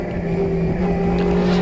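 A saloon race car at Brands Hatch, heard onboard during a Blue Oval Saloon Series round, drones with a steady loud engine tone as it runs on the brakes, the pitch holding nearly constant throughout.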